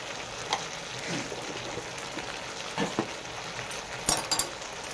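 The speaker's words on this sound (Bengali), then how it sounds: "নেড়ে চেড়ে নেবো।" Vegetables frying in a pan with sugar and turmeric, stirred with a utensil: a quiet, low sizzle broken by a few short scrapes and light clinks.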